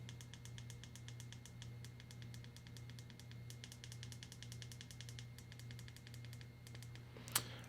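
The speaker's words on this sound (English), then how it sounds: "let's go ahead and do the clicky button test. So let's start with that power button first. And volume up and down." Power and volume buttons on a Google Pixel 6a inside a Spigen Thin Fit case are pressed in a quick, steady series of sharp, close plastic clicks against a quiet background, ending with one louder snap.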